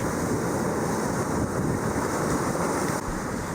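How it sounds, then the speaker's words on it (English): Ocean waves surge over a reef crest in a continuous loud rush of surf and splashing water, mixed with wind noise, close to the microphone, with no talking. "All these waves surging over the reef crest pile up water on the reef flat"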